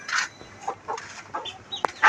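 Chickens, poultry chicks and country hens, clucking nearby in short, scattered bursts with pauses between them, and a few sharper calls toward the end.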